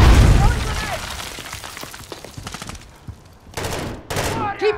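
Grenade explosions and gunfire in Modern Warfare 3 campaign combat: a heavy blast opens into rapid bursts of gunfire and sharp cracks, easing briefly before more loud shots and another burst, with a voice speaking over the firing.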